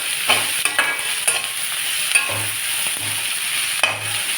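Potatoes and curry leaves fry in a pan for a spiced potato rice, a close, steady sizzle broken by repeated scraping stirs.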